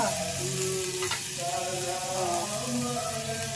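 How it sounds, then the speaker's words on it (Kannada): An ingredient sizzles steadily in a hot pan during festive cooking at home, a continuous close frying hiss with occasional stirring, while a voice talks quietly in the background. "ಇದು ಕೂಡ ಅಷ್ಟೇ ಚೆನ್ನಾಗಿ ಫ್ರೈ ಆಗಬೇಕು."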